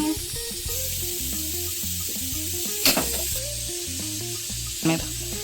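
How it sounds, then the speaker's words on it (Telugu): Spices dry-roasting for chicken curry crackle and hiss softly in a hot dry pan, a steady sizzle with a couple of brief sharper bursts, while music plays underneath. "ఇప్పుడైతే మసాలాలన్నీ వేయించుకుందాం"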